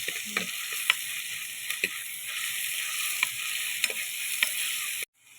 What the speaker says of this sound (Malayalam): വെളിച്ചെണ്ണ ചൂടായിട്ടുണ്ട് ഇതിലേക്ക് നമ്മുടെ ഇഞ്ചി വെളുത്തുള്ളി പച്ചമുളക് ചെറിയ ഉള്ളി ചതച്ചത് ഇട്ട് കൊടുത്തിട്ടുണ്ട്